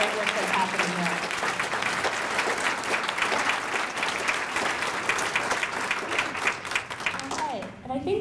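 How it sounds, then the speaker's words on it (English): A crowd applauds steadily and fairly loudly for several seconds at an annual meeting awards segment, the clapping thinning out slightly at the very end, with a voice faintly underneath. "give another round of applause to the great work that's happening"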